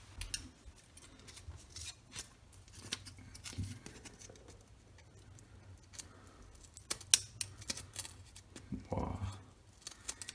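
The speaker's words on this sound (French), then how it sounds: "je vais aller chercher une paire de ciseaux" Scissors snip and rasp through packaging tape on a Pokémon card parcel in short irregular bursts, close up, with rustling plastic and no talking.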